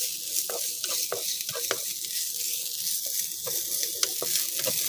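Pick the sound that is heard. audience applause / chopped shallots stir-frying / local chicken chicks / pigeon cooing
chopped shallots stir-frying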